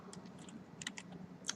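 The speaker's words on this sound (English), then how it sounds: "you can press the comma or the less than button on your keyboard" Keys are tapped on a computer keyboard during 3D animation work, a few faint, irregular clicks over quiet room tone.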